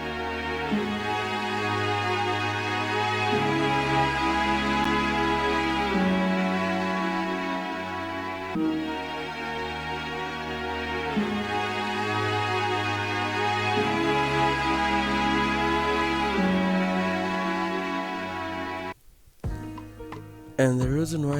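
Orchestral strings layered with a Sonatina library harp sustain chords together, swelling gently in slow phrases before a brief break and a sparser tail at the end.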